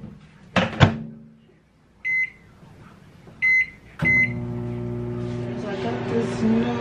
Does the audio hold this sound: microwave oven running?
yes